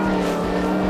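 A Ford Mustang SVT Cobra or GT500 accelerating hard on a race track, with a loud, steady engine roar heard close up from inside the car during a brief burst.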